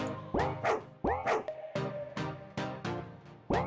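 Gin the dog barks in a video game, a run of sharp, loud yips and bow-wows repeated about every half second, close and clear with no talk over them.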